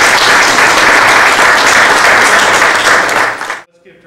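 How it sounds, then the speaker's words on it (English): A conference audience gives presenters a loud, dense round of applause that holds steady for about three and a half seconds, then cuts off abruptly into near quiet. "Let's give John and AJ a big round of applause here."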